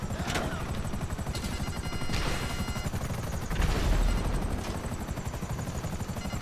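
A video game helicopter beats with a fast, rhythmic rotor chop, loud and close, with sharp bursts of gunfire and crashes cutting through it.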